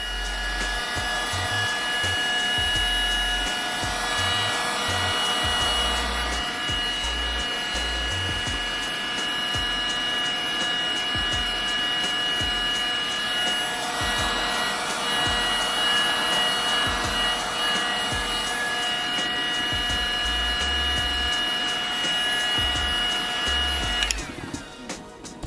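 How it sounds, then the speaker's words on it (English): Heat gun drying leather repair compound on a car's damaged leather upholstery, a steady loud blowing roar that holds level the whole time, with faint rubbing underneath, no talk. "We're gonna take my heat gun, I'm gonna dry it out."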